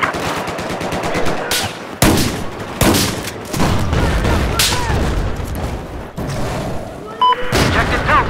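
Loud rapid gunfire rattles almost nonstop, broken by heavy booming blasts, with faint voices underneath in a busy Battlefield 4 battle.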